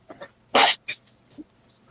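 A single sharp sneeze bursts out close by, framed by a few soft breaths and small vocal sounds.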